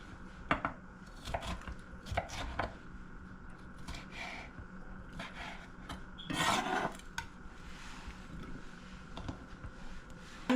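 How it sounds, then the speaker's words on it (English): Bell peppers are chopped on a cutting board, knife hits landing close up in irregular bursts of quick taps, with one longer scraping rub midway. "this is how we're going to chop the peppers up"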